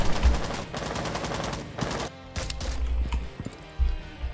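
Rapid gunfire in the Rainbow Six Siege video game: loud bursts of automatic weapon fire with several separate sharp shots, heard close and alone with no talking.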